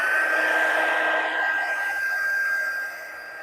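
An embossing heat tool blows a steady, close whooshing hiss with a thin high whine over it, used to heat set embossing powder on a Christmas card, then tapers off slightly at the end.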